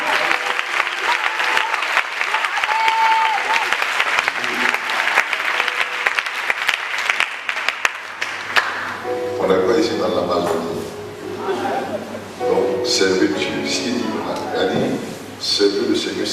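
A church congregation breaks into loud, sustained applause and cheering that fills the room and runs on for several seconds, following a stretch of a preacher speaking.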